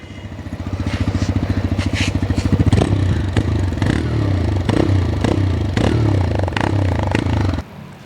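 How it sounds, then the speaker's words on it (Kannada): A TVS Raider 125 cc motorcycle engine running loud and close, with a steady idle throb and then a series of quick throttle blips rising and falling before it cuts off near the end. "ಸೊ ಗಾಡಿನ ಸ್ಟಾರ್ಟ್ ಮಾಡಿದ್ರೆ, ಗಾಡಿನ ರೈಸ್ ಮಾಡಿದ್ರೆ ಈ ಥರ ಕೇಳಿಸುತ್ತೆ ಸೌಂಡು"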